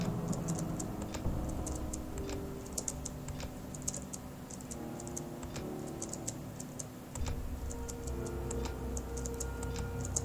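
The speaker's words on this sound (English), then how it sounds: "this is totally fun listening to me clicking my space button" Space bar on a computer keyboard clicked again and again while playing Whispering Willows, sharp close taps in an uneven rhythm over steady game music.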